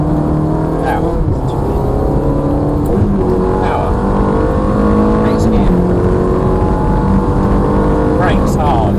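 A Ferrari is driven hard on a race track, its engine a loud, close, continuous roar that climbs in pitch as it accelerates through the gears.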